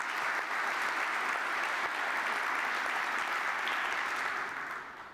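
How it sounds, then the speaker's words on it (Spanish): An audience at a cultural panel discussion applauds the assistants, a broad, steady wall of clapping from many hands that holds level for several seconds before trailing off at the end. "En agradecimiento sugiero un aplauso."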